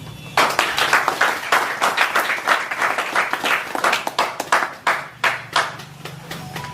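An audience at the FC Lumière d'Isiro general assembly in Haut-Uele breaks into applause. The clapping is lively and distinct, lasts about six seconds and gradually thins out toward the end.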